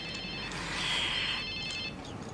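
A mobile phone ringtone trills in repeated bursts for over two seconds, loud and close, swelling in the middle and then easing off, with no speech over it.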